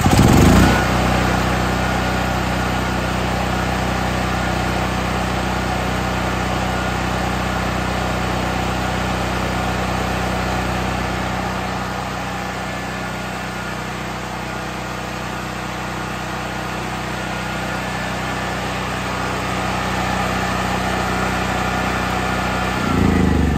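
A Firman tri-fuel generator runs after a choke start, its small engine droning loud, close and continuous with an even, unchanging buzz.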